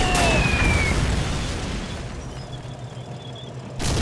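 Artillery shells burst in a WWII video game battle on a Moscow-area farm map, one loud booming blast fading into a long rumbling tail before a second hit lands at the end.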